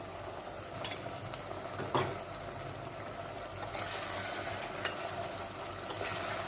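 Mutton pieces frying in a pan for a Mangalorean ghee roast, with a steady sizzle and intermittent scraping stirs throughout, close and moderately loud with no talking.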